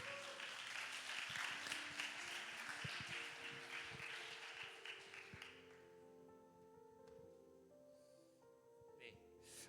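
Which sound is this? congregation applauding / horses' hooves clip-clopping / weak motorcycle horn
congregation applauding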